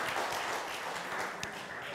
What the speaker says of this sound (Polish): Brawa dla odważnego.